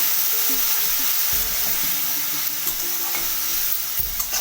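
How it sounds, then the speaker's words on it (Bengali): Spices, including Kashmiri red chilli, fry and are stirred in a pan with a splash of water, giving a steady sizzle with scraping stir strokes throughout, close and fairly loud with no talking. "সবগুলো মশলা একসঙ্গে খুব ভালো মতো ভেজে নেবো মশলাগুলো যাতে পুড়ে না যায় সামান্য একটু জল অ্যাড করে দিলাম"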